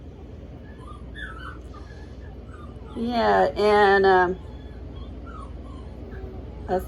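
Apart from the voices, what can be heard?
one-week-old puppies whimpering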